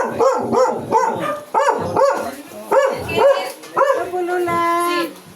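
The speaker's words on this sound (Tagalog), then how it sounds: "Ay, ito pala yung aso." A dog barks repeatedly at close range, about eight sharp barks in an uneven rhythm, ending in a drawn-out whining yelp.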